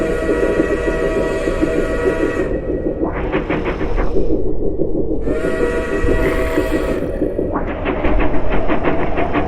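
Loud rumbling train noise in a video game, with a shrill whistle that sounds in two long blasts over the steady clatter.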